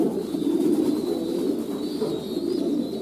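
Domestic pigeons, French meat-breed squab kept on a farm, coo in a low continuous murmur throughout, a close, steady flock chorus with no talking.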